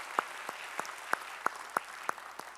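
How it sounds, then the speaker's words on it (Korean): A congregation at a Sunday worship service claps in unison, with about eight sharp, evenly spaced claps in a steady beat over a quiet room. "우리의 찬양을 받으실 주님께 영광의 박수 올리겠습니다."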